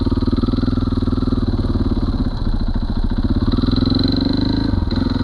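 Motorcycle fitted with a Rekluse auto clutch pulling away in first gear, its engine note loud and close, a steady pulsing exhaust throb that climbs slightly as it accelerates.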